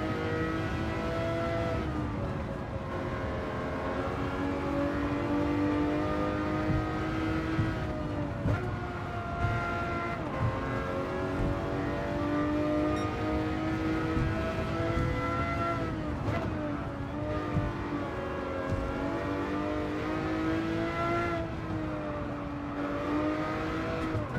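A Lamborghini Murcielago LP 640 engine in Gran Turismo 7, held in third gear on the Tokyo circuit, a steady mid-distance drone whose pitch rises and dips with brief shifts and lifts, continuing unbroken for about twenty-four seconds.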